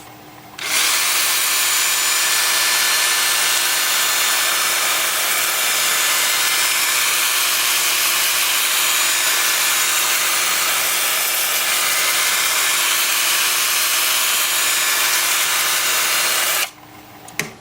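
Olive wood sanded on a wood lathe spinning at about 350 RPM, a steady loud hiss and whir holding evenly for about sixteen seconds before stopping abruptly, with no voices.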